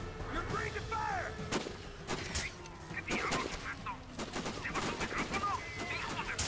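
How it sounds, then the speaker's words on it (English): Sniper Ghost Warrior video game gunfire: sharp gunshot cracks and booming artillery-like blasts ring out in irregular bursts over a steady battlefield bed, with bird chirps and voices in the mix. "Damn it, I'm being shot at."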